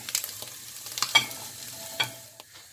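Chickpeas fry in hot oil for Cuban-style fried garbanzos, a low steady sizzle broken by scattered spatter pops and a few clinks of a utensil against the pan, close up and without talking.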